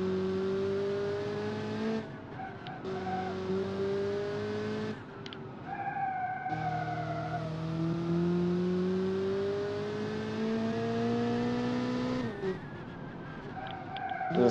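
Gravel racing car in Pikes Peak Rush, its engine whining up through the gears in rising sweeps, dropping sharply at each shift, loud and close, with no voices.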